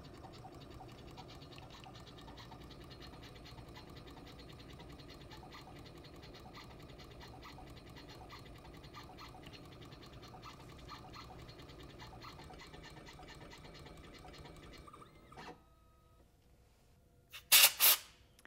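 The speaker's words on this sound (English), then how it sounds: "the engraving will begin" Diamond drag engraver etching a photo into a surface, a steady fine buzzing scratch with rapid tapping texture that runs for about fifteen seconds, stops, then a couple of sharp louder clicks and hisses follow near the end.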